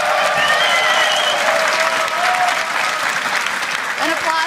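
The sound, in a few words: audience applause for Spring Split champions Fnatic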